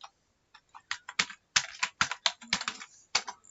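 Close, crisp keystrokes on a computer keyboard, typed in uneven bursts with short pauses while steps for connecting a Java application to a MySQL database are written out; no voices.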